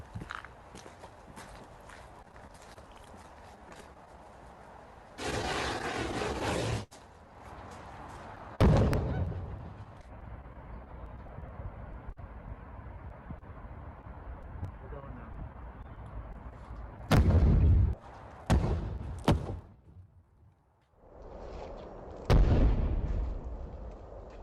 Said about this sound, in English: that's a pretty big explosion